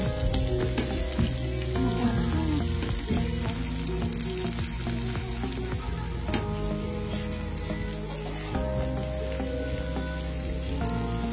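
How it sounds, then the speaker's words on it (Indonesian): Ingredients stirred in a hot frying pan with petai beans, a steady sizzle and crackle running throughout, near and fairly loud, with scraping stir strokes and no voices. "Setelah itu aduk semuanya hingga bercampur rata."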